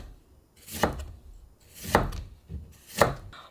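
A knife slicing a lemon thinly on a cutting board, three separate firm chops spaced about a second apart, each a crisp thunk with a short board knock, close and clear with no talking.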